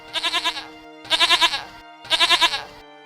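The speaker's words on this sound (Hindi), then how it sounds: "अचानक मेरे मुंह से बकरे की आवाज आने लगी" A goat bleats three times in a row, each call a close, loud, quavering cry with short pauses between.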